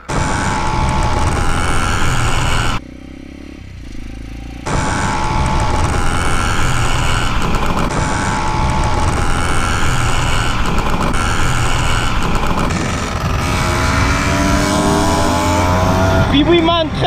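A Pee-wee 80 mini motorcycle engine on a test ride, loud and close, buzzing and revving continuously with a short drop to a quieter idle before surging again.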